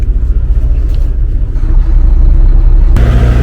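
A truck engine rumbles low and heavy while the vehicle is put in reverse and backs up, the drone steady and close before it swells louder near the end.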